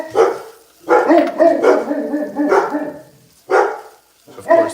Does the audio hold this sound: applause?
no